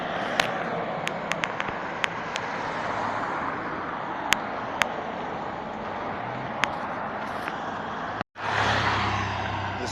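Cars pass on the main road south from McLaren Vale, a steady roadway rumble with occasional sharp clicks and a brief cut near the end, heard close up from a bicycle.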